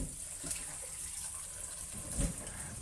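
Tap water runs steadily into a large container or pot as baby bok choy is rinsed whole. A continuous close splashing rush carries on for the whole stretch, with a brief louder slosh near the end.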